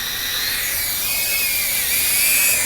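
High-pitched whine of small sub-250 FPV drone motors hovering close by, steady with a slight rising pitch, over a constant rushing hiss.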